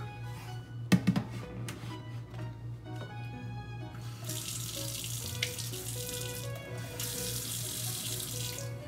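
A kitchen tap runs at low pressure as salt is rinsed off a salmon fillet, a steady close splash with a few brief knocks early on and the flow growing brighter and fuller partway through.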